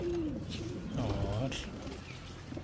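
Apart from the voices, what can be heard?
pigeons cooing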